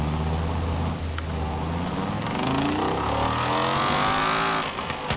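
A 2016 Dodge Viper ACR V8 in Forza Horizon 4 roars steadily as it revs, its engine note climbing through a loud, continuous sweep and holding high before easing slightly at the end.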